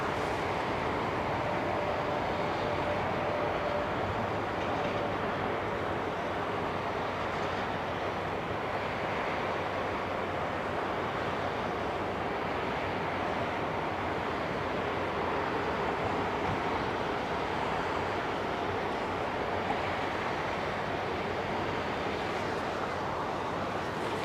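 An Airbus A380 jet departs for Boston from a German airport, a steady, broad, distant roar of engines lasting throughout with a low rumble underneath and no talk.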